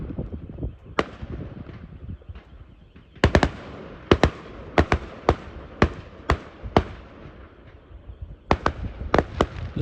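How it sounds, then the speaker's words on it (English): Fireworks bang across a village at night, sharp cracks and pops arriving in irregular bursts over a steady crackling background, some close and loud, others more distant. "I've got a personal firework display for some reason"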